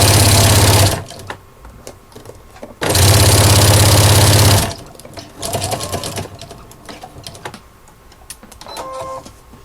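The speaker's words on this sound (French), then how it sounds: "Et maintenant je vais coudre mes deux côtés de toile cirée." A sewing machine stitching the sides of oilcloth, running in two loud sustained bursts separated by a pause, with quieter handling and clicks between and after them.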